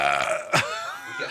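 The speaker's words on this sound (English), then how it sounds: "I keep burping." A single loud, close burp erupts from a person mid-clip, framed by other short throaty vocal sounds before and after.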